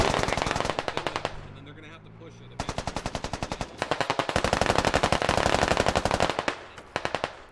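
Rapid bursts of machine gun fire, loud and close, repeating in long rattling volleys with brief gaps between them, with faint voices underneath.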